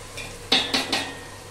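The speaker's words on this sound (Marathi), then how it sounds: "मस्तपैकी हलवून घेऊया. हे छान परतायचं." Cumin, cloves and cardamom are stirred in a pan: three quick metallic scrapes and clinks of a utensil, close and distinct, over a faint background hiss.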